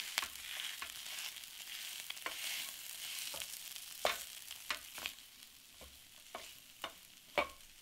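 Spiced potato filling for Punjabi samosas is mixed and pressed in a pan, with spatula scrapes and taps coming irregularly over a faint steady hiss, moderately close and fairly quiet, with no talking.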